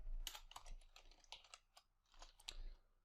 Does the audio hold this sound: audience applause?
no